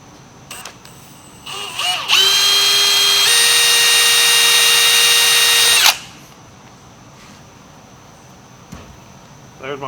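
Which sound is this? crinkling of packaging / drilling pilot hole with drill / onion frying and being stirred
drilling pilot hole with drill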